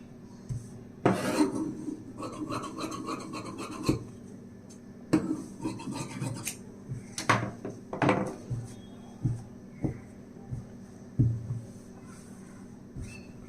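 Scissors cut lining fabric for a 30-inch blouse, giving rasping, rubbing strokes up close that repeat in uneven bursts over a quiet room.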